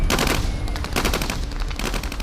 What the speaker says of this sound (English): The Iraqis kept firing.